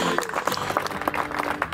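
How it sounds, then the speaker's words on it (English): Crowd applause for a singer at a Danbury Westerners ballpark performance, a short burst of clapping with scattered sharp claps over a murmuring background. "Give a round of applause for Mr."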